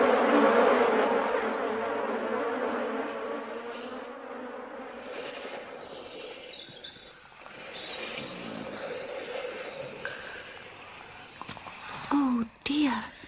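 Bees buzzing in a cartoon scene, a droning hum that runs throughout under background music and occasional voices, with brief sharper sounds near the end.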